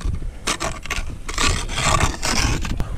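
Steady rasping scrapes of a tool across a ski base, with a person holding the ski as another scrapes repeatedly, a run of close, rough strokes at an uneven rhythm.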